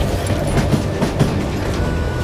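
A train in the video game Call of Juarez: Gunslinger rumbles along loudly and close, a steady heavy roar with faint rhythmic wheel clatter throughout.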